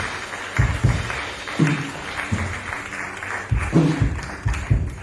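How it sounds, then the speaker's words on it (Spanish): A church congregation claps together during a Spanish-language Sunday morning service, a mid-loud burst of applause that swells in uneven waves, with a bit of faint talk underneath. "Denle un aplauso al Señor"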